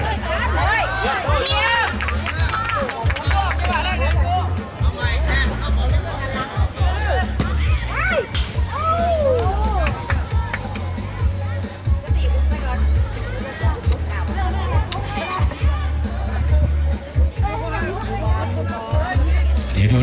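A crowd at a youth football league match in Nong Leng Sai makes a lively babble of cheering and chatter. A commentator talks loudly over it the whole time.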